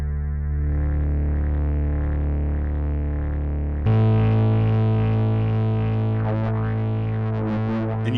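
A Novation Bass Station 2 synthesizer plays a sustained bass tone with post-filter distortion, loud and buzzy with gritty low end, shifting to a brighter, harsher note midway and then wobbling as its tone changes.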